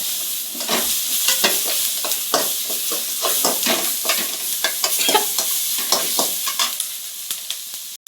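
Gobi (cauliflower) frying in a pan at home, a steady hiss of hot oil broken by frequent scraping strokes of a spatula stirring the pieces, close and clear with no talking.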